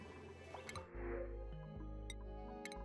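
Watery drips and a gurgling fill play against a steady low droning hum from the video game Oxygen Not Included while water is pumped in, with no talking.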